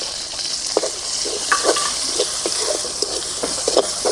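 Tomato pieces sauté in a pan with a constant sizzle, punctuated by regular stirring scrapes and small clinks, close and fairly loud, with no voice.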